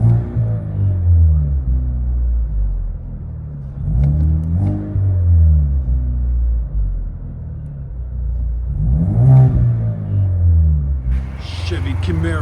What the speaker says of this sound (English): Chevy Camaro 4-cylinder turbo with Dynamax mid, LCGP rears.